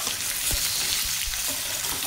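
Potatoes roasting in a pan for a traditional GSB Konkani curry, a steady close sizzle and fry hiss with occasional stirring knocks, no voices.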